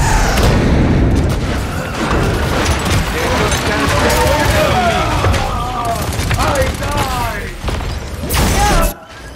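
A bomb goes off in the Paladins video game after its fuse burns, a loud booming blast inside dense, chaotic battle noise with gunfire-like crackle and voices, cutting out abruptly near the end.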